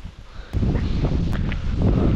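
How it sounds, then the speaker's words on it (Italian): Gusty wind blows near a beach, rushing as a low, rumbling roar against the microphone with a brief hiss of rustling vegetation, swelling suddenly after a quieter opening and staying loud. "Che vento che c'è, altro che spiaggia."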